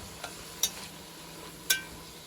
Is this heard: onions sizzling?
yes